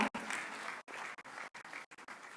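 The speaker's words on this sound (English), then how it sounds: "With a huge round of applause" A conference audience applauds to welcome Mr. Shashi Kumar of Abu Dhabi Commercial Bank on stage at the ICAI Dubai annual conference, a steady crowd clapping with brief gaps, fairly loud and continuous throughout.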